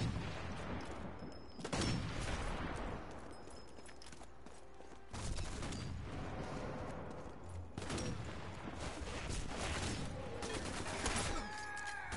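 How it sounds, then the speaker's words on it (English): Gunfire in the video game Sniper Elite 4 rattles in repeated bursts and single shots, loud and dense, with heavy blasts breaking through over the course of the firefight. "Trying to shoot them back."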